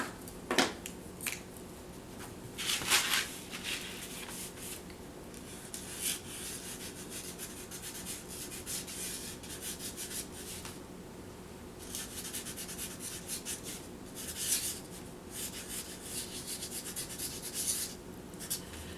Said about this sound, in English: I'm going to take my black permanent marker and I'm going to write thoughts and feelings at the top of this.